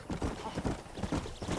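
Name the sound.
horse hooves galloping, from a video game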